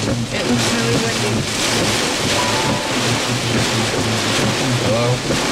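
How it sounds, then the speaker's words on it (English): Strong, damaging June windstorm in Reno County, Kansas, roaring steadily and loudly across an open rural road, with heavy buffeting against the microphone and faint traces of a voice and engine hum beneath. "It looks really windy."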